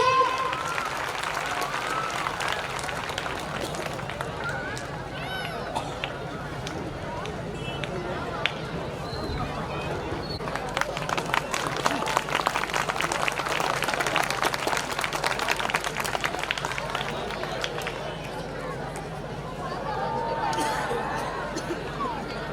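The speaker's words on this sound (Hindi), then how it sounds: "इनके स्वागत में जोरदार तालियां बजा दीजिए।" School annual function crowd applauding to welcome a guest: sustained clapping and cheering from a large audience, steady throughout with babble and chatter mixed in.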